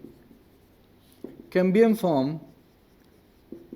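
A marker or pen writes notes on a board during a biology lesson, with soft scratchy strokes at the start and end and a teacher speaking briefly in between.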